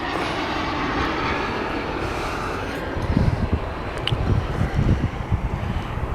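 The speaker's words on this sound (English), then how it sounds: "Oh, there's an airplane." An airplane drones overhead as a continuous broadband roar with some wind buffeting the microphone, growing louder and rougher partway through, with no talking.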